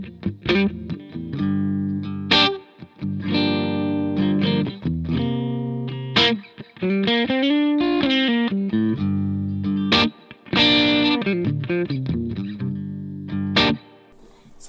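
Electric guitar playing blues licks through a Vox AC30C2 amp, with crunchy overdriven chords and bends in steady phrases, loud and close with no talk.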